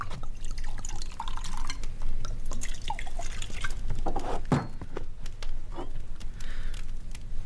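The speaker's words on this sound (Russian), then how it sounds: "Наливай." Liquid is poured into glasses, with dripping and splashing over background room noise, a few clinks of glass, and no speech.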